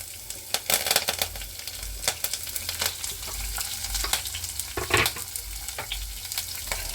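Chopped onion, green chilli and curry leaves frying in a pan, a loud crackling sizzle with frequent sharp stirring clatters and scrapes throughout, close up and with no talk.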